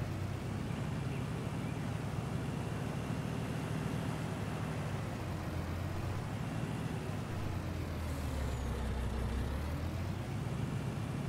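Heavily loaded truck pulling a trailer in Farming Simulator 19, its engine a steady, loud, low rumbling drone that holds without a break, with no voices over it.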